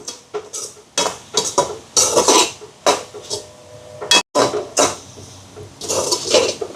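Grated coconut is stirred into sugar syrup in a pan for Jaffna pani pol roti, giving a run of close, uneven scraping and clattering strokes of a spoon against metal, with brief pauses between bursts.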